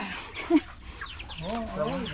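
Chickens cluck close by in short bursts, with a louder squawk early on and softer clucking that continues.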